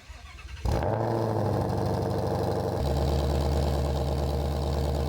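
Ford Mustang GT500 engine in the Driving Empire racing game: a quiet start, then the engine fires up and settles into a loud, steady, rumbling idle that drops slightly lower partway through.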